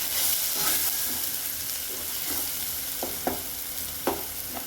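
Spinach paratha filling being stirred in a frying pan, with a spatula scraping and clicking a few times over a steady low sizzle, close and moderately loud.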